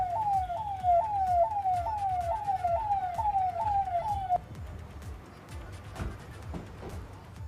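Ambulance siren wailing in a fast repeating rising-falling cycle for about four seconds before cutting off abruptly, leaving low street rumble behind.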